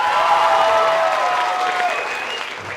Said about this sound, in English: clap and applause for the one you want